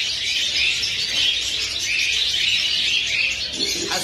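Caged wild goldfinches at a crowded Baghdad bird and animal market sing in rapid, bright twittering phrases, continuous and fairly loud, over a low murmur of market noise.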